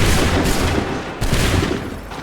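A loud, dense musket volley from soldiers in Assassin's Creed III, a sustained crackling fusillade of many overlapping shots that briefly dips and then surges again, close and without speech.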